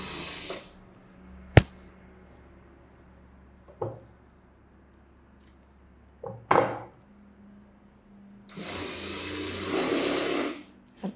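A sewing machine stitches a collar-neck princess blouse in short bursts, with a longer steady whirring run near the end, separated by quiet pauses and a few sharp clicks and knocks.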